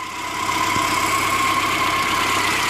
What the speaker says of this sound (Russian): Все обыскал, не могу понять, откуда этот звук. Как будто с мотора.